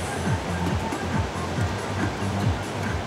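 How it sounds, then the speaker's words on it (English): Ocean waves break steadily behind an outdoor workout, a constant broad wash of surf with no gaps, with a faint low hum running underneath. "I got the waves behind me."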